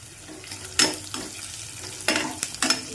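Oil is added to onions frying in a pan, bringing a soft sizzle broken by a few sharper scraping stirs, close and moderately loud, with no talking.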